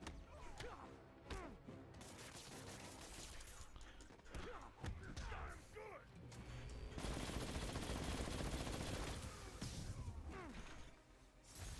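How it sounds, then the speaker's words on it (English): Gatling gun firing in a Spider-Man video game: long stretches of rapid, continuous rattling fire with mechanical clatter and impacts, broken by short pauses, while voices speak over the action. "Who brings a Gatling gun to a fist fight?"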